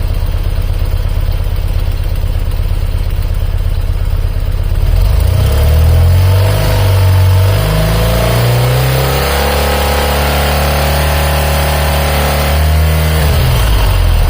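Airhead engine, the boxer motor under work on its valves, timing and carburettor sync, hums at a steady idle, then is revved up and held at higher speed before settling back down, loud and close.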